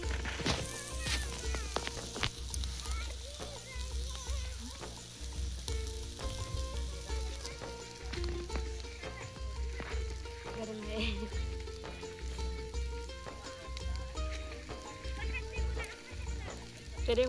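Tandoori chicken pieces roast in a pan at a riverside outdoor cooking spot, giving a steady crackling sizzle with occasional stirring scrapes; someone speaks over it now and then.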